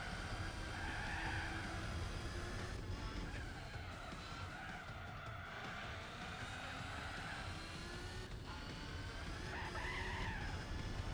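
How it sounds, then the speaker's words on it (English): Continuous car engine drone with tire squeal from wheel spin in the Gran Turismo 4 racing game on the Costa Di Amalfi course, a steady loud tone whose pitch rises and falls, with no talking. "Bit of wheel spin."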